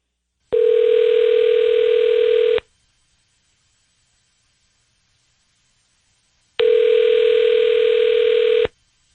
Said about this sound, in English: We're dialing him up now